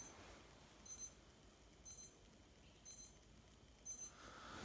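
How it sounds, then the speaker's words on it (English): A Citizen CB5848 wristwatch alarm beeps faintly, four short high-pitched bursts spaced about a second apart against quiet room hiss. "the alarm should ring in 10 seconds"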